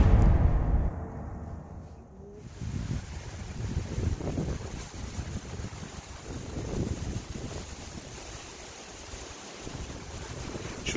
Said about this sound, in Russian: Чувствуете, как ветер начинает усиливаться?